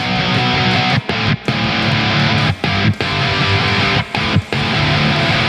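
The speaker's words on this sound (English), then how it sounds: "So the verse strumming pattern is going to sound like this up to speed." Distorted electric guitar power chords from a song churn out the verse strumming pattern at full speed, loud and dense, with brief choked gaps breaking the rhythm.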